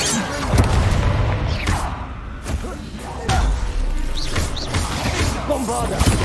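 Bombarda spell blasts in the game Hogwarts Legacy during combat: several deep booming impacts and whooshes spaced out over a few seconds, with a voice calling out between them.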